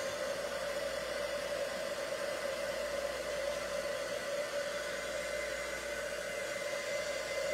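A hair dryer blows a steady, loud, unbroken whoosh of air, drying a stamped card background for a Stampin' Up! blown-background technique; no talking.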